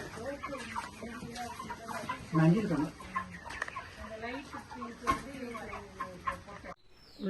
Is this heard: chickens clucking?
yes